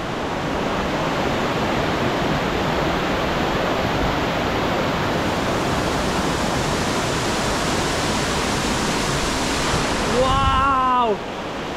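Waterfalls in Bali roar as a loud, constant wash of broadband noise that fills the whole stretch, with a brief voice exclaiming near the end.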